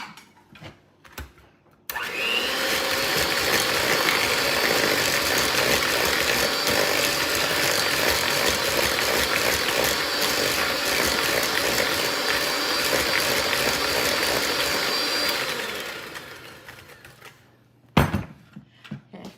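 An electric mixer whirs steadily for about thirteen seconds as it beats snickerdoodle bar batter with added vanilla, starting abruptly and winding down at the end, with a few knocks before and after.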